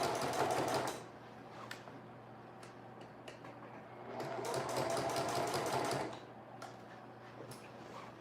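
A sewing machine stitches a seam on a summer dress, with two bursts of rapid, rhythmic mechanical whirring separated by quieter pauses and a few light ticks, fairly faint and with no talk.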